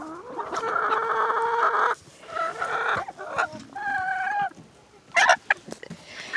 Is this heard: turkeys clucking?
yes